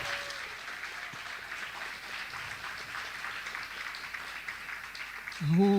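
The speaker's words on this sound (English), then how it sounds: "I'd like you to give a round of applause to the debaters." An audience at a school debating competition final gives a steady, even round of applause for the debaters, heard from a distance at low volume. A voice starts speaking right at the end.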